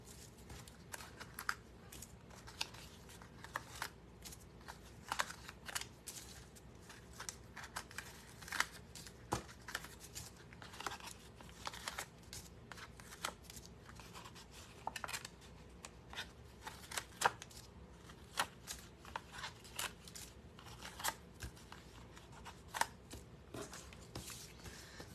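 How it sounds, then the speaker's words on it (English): Paper backing peeled from layered stickers on a handmade get-well card, heard as a long run of faint, crinkly tearing and crackling with scattered sharp ticks, close and quiet, with no voices. "let's just start peeling."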